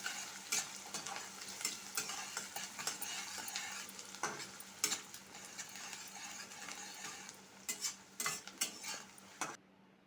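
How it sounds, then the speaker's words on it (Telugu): Ginger, green chillies and chopped onions frying in a pan over medium flame for upma, a steady soft sizzle with repeated scraping and stirring clinks of a spoon against the pan, close and continuous. "ఇవన్నీ 2 నిమిషాల పాటు మీడియం ఫ్లేమ్‌లో పెట్టుకొని బాగా వేయించుకోవాలి."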